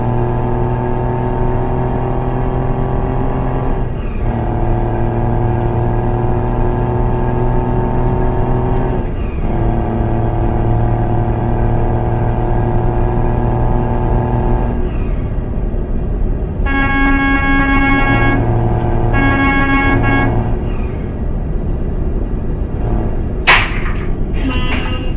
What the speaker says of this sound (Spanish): Vamos a frenar el motor, amigos.